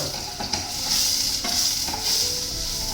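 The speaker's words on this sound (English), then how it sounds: "and chopped garlic. We'll saute everything together" Onions and chopped garlic sauté in butter for mushroom soup, with a close, continuous sizzle and the soft scrape of stirring in the pan.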